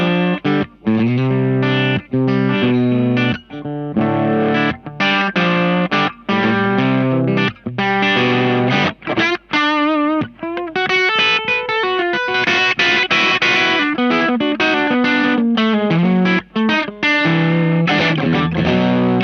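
Electric guitar played through a vibrato and overdrive pedal, loud and continuous, warbling and distorted, with chords and notes wavering in pitch throughout.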